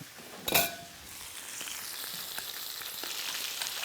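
Macaroni and cheese heating in a cast iron pan on a wood-fired pot belly stove, a sharp clunk at the start followed by a steady, soft sizzle and crackle that continues alone.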